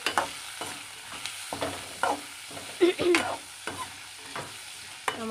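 Mango pieces are stirred into red amaranth greens frying in a pan, producing repeated scraping and tossing strokes over a steady low sizzle, close and moderately loud with no talking.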